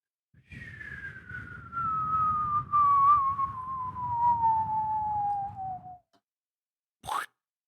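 A long descending whistle slides slowly downward for about five seconds over a low noisy rumble, followed after a short gap by a brief sharp burst.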